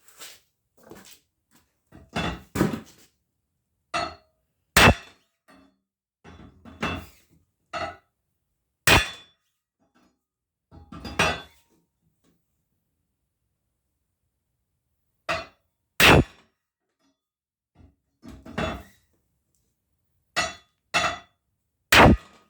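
A hammer strikes five wheel studs one by one to seat them in a Chevy 10-bolt axle flange, sharp ringing metallic blows in short clusters with silent gaps between, loud and close, no talking.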